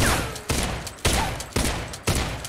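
An M88C rifle in the Knives Out game fires five heavy shots in an even rhythm, about half a second apart, each a loud close blast with a short decay.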